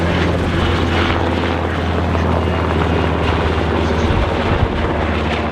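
An MH-60R Seahawk 'Romeo' helicopter roars steadily and loudly throughout at an airshow, its rotor thump and engine drone dense and unbroken, with no voices.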